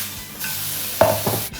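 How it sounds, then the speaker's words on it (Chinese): Mustard green leaves drop into a hot wok with oil, dried shrimp and smashed garlic, a loud sizzle swelling as they are tossed and stir-fried over high heat, with a brief scrape of the spatula. "芥菜叶子悄悄下锅，盐少放一点，一点点味精，开大火快速炒熟"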